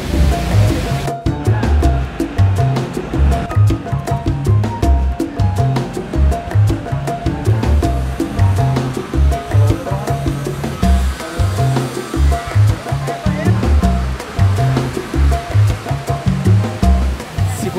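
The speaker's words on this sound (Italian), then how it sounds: "Il rumore che sentite è la cascata interna alla grotta." A waterfall inside a cave in Viñales, Cuba, gives a steady, broad rushing roar of falling water that echoes faintly and holds constant throughout.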